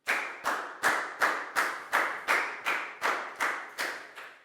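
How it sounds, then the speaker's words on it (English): Year 4 schoolchildren in a classroom clap together in unison: about eleven sharp, evenly spaced claps, each ringing briefly in the room, close and loud with no talking. "High five and a big round of applause for Lakgao,"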